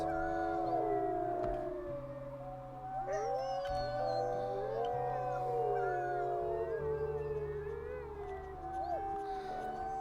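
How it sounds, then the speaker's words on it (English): Dispersal wolf in a wolf video game howling back, several long overlapping rising and falling howls from more than one wolf, sustained and fairly close, with layered game ambience underneath. "Oh, there's a dispersal howling back to us."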